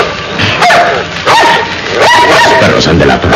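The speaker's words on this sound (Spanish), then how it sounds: "esos ladridos me ponen nervioso" Dogs bark in short yipping bursts as a radio drama sound effect, set in shadowy, well-kept gardens at night, with several barks repeating over a busy background.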